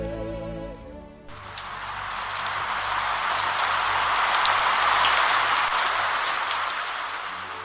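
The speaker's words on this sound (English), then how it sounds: "The rain, as usual, is a problem at this facility" Steady heavy rain pouring down at a rural health centre in Uganda, a dense, continuous hiss drumming on surfaces that swells and holds throughout, with no voices.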